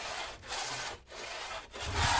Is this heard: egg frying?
no